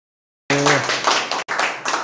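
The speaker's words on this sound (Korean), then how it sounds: "우레와 같은 박수 소리" Applause greeting the host of a live real-estate auction lecture begins abruptly after a short silence. A brisk, close burst of clapping hands cuts out for an instant, then resumes, and a brief tone sounds at the onset.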